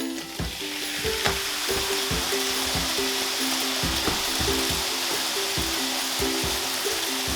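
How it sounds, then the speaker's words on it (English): Buñuelos dough frying in hot oil gives a loud, steady sizzle with repeated soft bubbling pops and clicks throughout, close up and without voices. "And this fries pretty quick."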